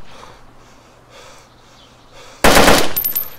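A loud burst of rapid automatic gunfire from an M4 in the survival game DayZ erupts suddenly after a few seconds of quiet breathing and faint background noise, close and harsh.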